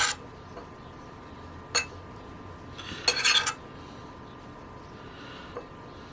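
A spoon stirs chopped cherries into cake batter in a bowl, giving a few sparse metallic clinks and scrapes against the bowl, with a brief cluster in the middle.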